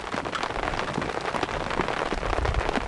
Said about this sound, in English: now we are getting a deluge of rain.